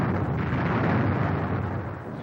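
Incoming artillery shells exploding at the Khe Sanh Marine base during the Vietnam War siege, heard as a dense, continuous low rumbling roar of blasts that stays loud throughout and eases slightly at the end.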